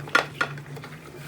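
A spoon scraping and clinking twice against a bowl while pepper and ginger powder seasoning is mixed, two quick close knocks followed by faint stirring.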